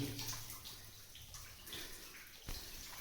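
Water trickles and drips down from above into a farm well, giving a faint, continuous splashing patter with a slightly louder splash near the end.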